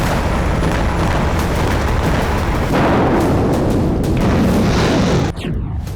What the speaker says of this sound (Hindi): विध्वंसक प्रहार, बारूदी संघार।